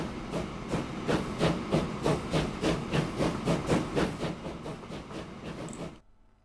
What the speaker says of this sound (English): I thought he was going to run into this other train